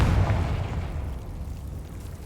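A fantasy spell blast from a video game erupts as a loud, deep boom at the start, then rumbles and fades over about two seconds with no voices.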